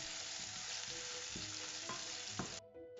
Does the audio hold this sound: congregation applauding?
no